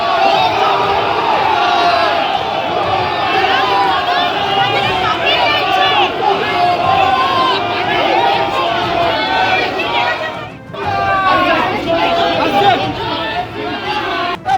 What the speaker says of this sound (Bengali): প্রাক্তন মুখ্যমন্ত্রীকে দেখে চোর চোর স্লোগান দেওয়া হয়।